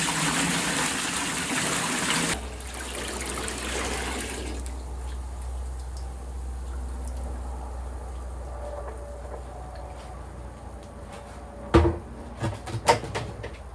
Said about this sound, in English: So let me pour the sap in there.